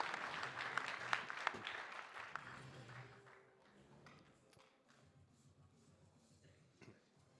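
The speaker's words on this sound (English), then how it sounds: "how about a round of applause for these 4 heavyweights, everyone?" A press-conference audience claps for four heavyweight fighters, fairly faint and sparse: a burst of scattered claps that thins and fades after a few seconds, leaving a few isolated taps.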